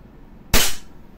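A single sharp crack from a WE Glock 35 airsoft gas pistol, a close, loud pop with a brief gassy tail, set in quiet.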